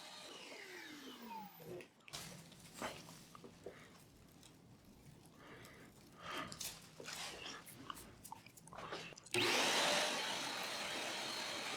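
Shop-Vac wet/dry vacuum with hose and floor nozzle picking up wood chips and sawdust, irregular rattling clatter of debris through the hose, then the motor's steady loud roar swells near the end.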